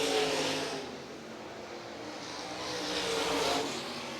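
A Blue Ridge Outlaw late model race car at Lancaster Motor Speedway roars through a qualifying lap, its engine a steady distant drone that swells and fades as it sweeps around the track, with no talk over it.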